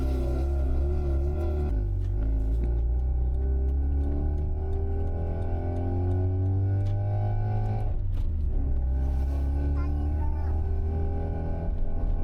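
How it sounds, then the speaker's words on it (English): An old Mazda engine idles as it relearns its idle after a battery disconnect, a steady close rumble with a rising and falling pitch and a brief dip near the end. "These old Mazdas have to relearn how to idle when you disconnect the battery, which is what's happening here."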